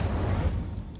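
Incendio fire spell from Hogwarts Legacy, a dense low rumbling whoosh of flame that fills the whole second and fades slightly toward the end.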